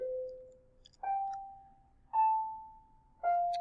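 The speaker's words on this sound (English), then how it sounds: "That bell is following me." Bell ringing in a quiet room, four clear tonal strikes each decaying slowly, spaced about a second apart with a slight change in pitch between them, no voices.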